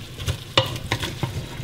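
Diced potatoes and cauliflower sizzle in a frying pan as a spoon scrapes and stirs them, with several distinct stirring strokes over the steady, close sizzle.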